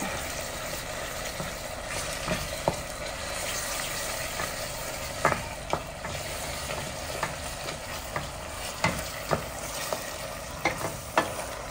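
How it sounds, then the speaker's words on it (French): A spoon stirs a tomato mixture with red adja cooking in a pot, producing repeated clinks and scrapes over a constant soft sizzle. "Vous remuez bien pour que ça soit bien cuit la tomate."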